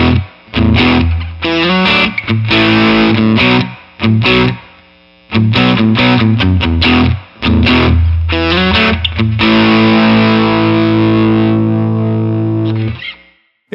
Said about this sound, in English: Something about this amp just makes every bridge pickup fat.